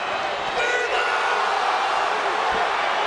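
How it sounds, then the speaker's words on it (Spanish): Dense, continuous roar of a wrestling arena crowd at a televised SmackDown TLC match, cheering steadily with no break and no clear speech on top. "La fanaticada está calentísima."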